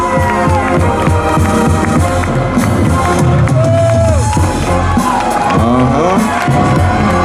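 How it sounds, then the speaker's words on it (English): A loud crowd cheers and shouts for four competitors at an NFL fan event on Regent Street in London, with whoops, voices and music mixed into a continuous roar. "Give them a big round of applause."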